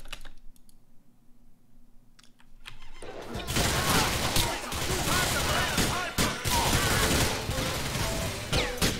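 Rapid bursts of gunfire from a shootout in GTA: The Ballad of Gay Tony, a dense fusillade that starts after a few quiet seconds and keeps going at close range, loud and continuous.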